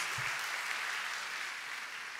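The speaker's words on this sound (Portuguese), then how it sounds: "Pode aplaudir a Jesus Cristo." A church congregation applauds together during a sermon, a dense, even wash of clapping that holds steady at full strength throughout.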